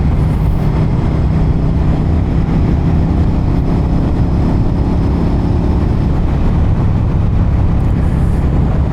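Steady engine roar and wind rush from a 2023 Suzuki SV650 motorcycle being ridden on the road, loud and continuous throughout without speech.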